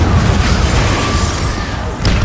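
A Confringo blasting curse exploding in Hogwarts Legacy, a loud, close, deep rumbling boom that sustains for about two seconds, followed by a brief softer thump near the end, with no talking over it.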